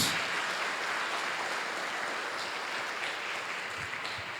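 A church congregation claps together after a Gospel reading at a Catholic Mass during a patron saint festival, a dense, steady wash of applause sustained throughout with no voices over it.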